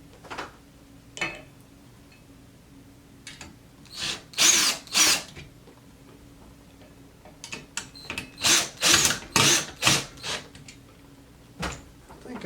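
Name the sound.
power drill loosening ceiling fan bolts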